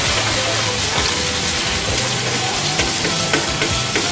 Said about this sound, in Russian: Ох, как все шкварчит.